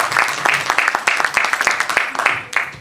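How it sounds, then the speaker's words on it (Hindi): An audience applauding the musicians at an evergreen hits concert, with loud, dense, sustained clapping that is close and continuous. "मैं चाहूंगा हमारे सभी साजिंदे, सभी वादक कलाकारों के लिए बहुत जोरदार तालियां यहाँ पर हो।"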